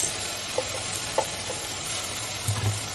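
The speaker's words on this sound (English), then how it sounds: "So the onions and the tomato are being sauteed" Chopped onions and tomatoes with cloves and curry leaves sauté in a pan for a millet vadacurry, giving a steady close sizzle with a few soft clinks of a stirring spoon.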